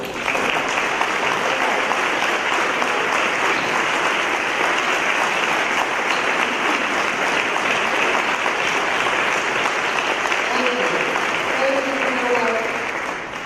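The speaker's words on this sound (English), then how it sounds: "Let's give them a round of applause." Sustained applause from a large crowd at a Memorial Day ceremony honoring veterans, steady and loud throughout, fading slightly at the end with a voice faintly audible near the close.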